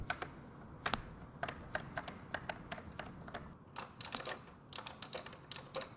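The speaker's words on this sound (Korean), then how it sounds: "조용한 가운데서 키보드 치는 데는 뭐 청축처럼 탁탁탁 이런 소리는 아니라고 볼 수가 있습니다" Soft, muted keystrokes in bursts and short runs on an ASUS ROG Claymore II keyboard with silent red linear switches, fairly close, with no voices; gentle tapping rather than sharp clicks.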